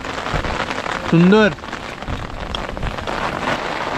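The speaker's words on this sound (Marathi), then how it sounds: "जोरदार पाऊस आलाय, पावसात आपण खातोय." Heavy rain pours steadily in the dense Andharban jungle during a trek, a loud continuous hiss of drops on leaves and surfaces, with a single brief spoken word over it.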